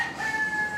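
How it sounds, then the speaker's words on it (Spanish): An albino peacock calls at a zoo in Argentina: a loud, shrill, drawn-out cry with sustained tonal tones, heard close and alone without talk. "Miren ese pavo real albino."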